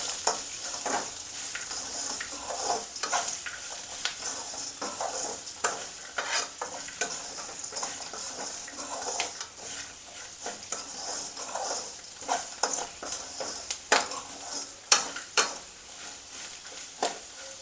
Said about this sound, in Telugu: పసుపు పొడి వేసిన తర్వాత అటు ఇటు కలుపుకోవాలి.